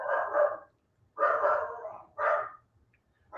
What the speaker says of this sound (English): Dog's going ape shit because I have a contractor coming in the house to do something